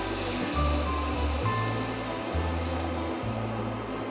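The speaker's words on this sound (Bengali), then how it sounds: "এবার আমি গরম জলটা ঢেলে দিচ্ছি।" Hot water poured from close by into a pan of fried, spiced chicken for a Bengali-style thin curry, giving a steady rushing splash with low, uneven gurgling surges throughout.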